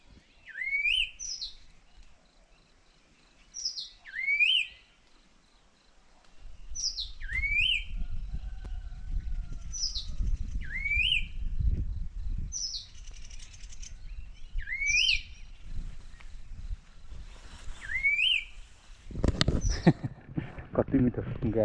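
A songbird in a tree in the Darjeeling hills repeats the same short whistled phrase about every two and a half seconds, clear and fairly close, while a person talks underneath for most of the stretch.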